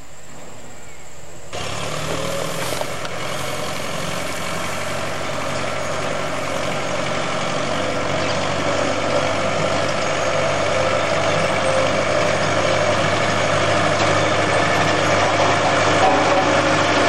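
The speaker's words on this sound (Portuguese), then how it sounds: "Vemos o caminhão da prefeitura, o trator, executando o trabalho de" Municipal truck and tractor scraping and spreading gravel on a dirt road, heard as a steady, loud engine rumble with a constant low drone and broadband grinding noise that starts abruptly and runs continuously.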